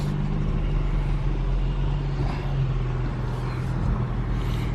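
Steady road traffic with cars and trucks rolling past, a continuous loud engine rumble that holds without a break and never drops to quiet.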